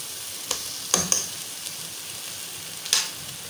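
Mutton chops frying in butter with masala in a pan, a soft steady sizzle with a few sharp crackles and pops standing out, close and fairly quiet with no talking.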